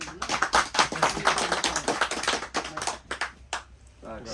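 Clapping at an award ceremony in New York: a run of sharp, close claps for several seconds, thinning out toward the end.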